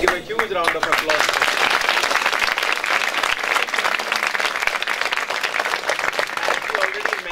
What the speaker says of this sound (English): Please give a huge round of applause.